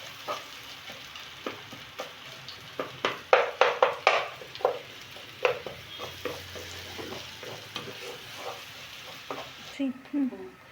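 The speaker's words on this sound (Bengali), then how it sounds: "পেঁয়াজ কুচি দিয়ে দিলাম।" Chopped onions fry and sizzle in a pan while being stirred, with a constant hiss broken by repeated scraping and clattering strokes.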